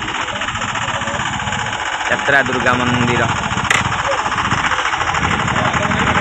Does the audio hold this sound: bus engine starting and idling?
yes